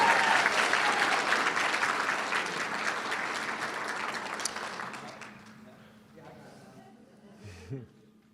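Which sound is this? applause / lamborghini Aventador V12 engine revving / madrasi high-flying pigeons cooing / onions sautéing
applause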